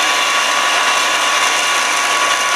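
A drill bores steadily into a motorcycle part for a dirt-drag bike with a 13B rotary engine, giving a loud, continuous whirring grind with a constant tone and no talking.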